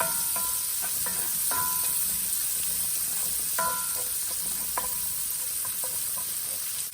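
Onions and garlic fry in hot bacon fat in a home kitchen pan, a steady bright sizzle punctuated by scattered pops and crackles, close and continuous.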